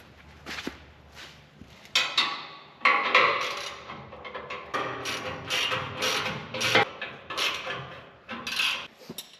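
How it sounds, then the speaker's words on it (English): A ratchet tightens truck bumper bolts in a garage, giving irregular bursts of close metallic clicks, knocks and clanks between short pauses. "Go ahead and start tightening them down."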